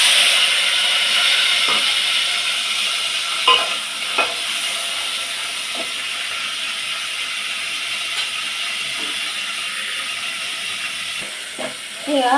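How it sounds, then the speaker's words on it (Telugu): Tomatoes fry in a pan for a pounded chutney with a loud, steady sizzling hiss. Occasional soft stirring knocks break through the sizzle, close by, with no talking over it. "టమాటాలు ఇంట్లో గోలించుకోవాలి"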